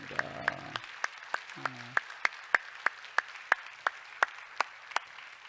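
Sparse, slow clapping from a church congregation, single sharp claps landing at a steady beat about three per second, fairly quiet, with a brief tonal sound at the start.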